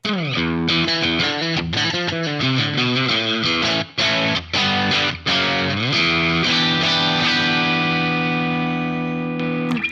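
Budget Mooer MMT 100FR Floyd Rose electric guitar on its split-coil setting through a distortion pedal with light gain, strumming loud, overdriven chords that end in a long, ringing sustained chord, with no talking.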